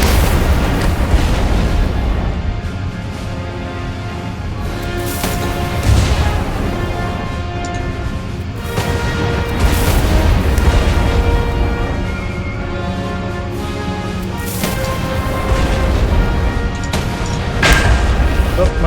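Cannon fire from a Minecraft Movecraft ship battle: loud, continuous booming with repeated heavy blasts and crackling bursts layered over one another for the full stretch, with no letup.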